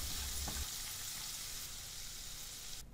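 Garlic and spice paste with turmeric frying in a pan for vada pav filling, a steady close sizzle with a brief stirring scrape near the start, cut off abruptly at the end.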